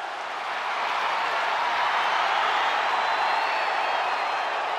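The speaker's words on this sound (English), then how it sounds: "Listen to this ovation." A big arena crowd roars and cheers in WWE 2K23 in a steady, loud wash of noise that swells slightly and holds throughout, with no voices standing out.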